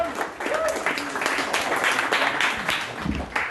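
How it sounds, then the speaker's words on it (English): A crowd claps and cheers steadily, with scattered voices and whoops mixed into the applause. "Let's have some clapping."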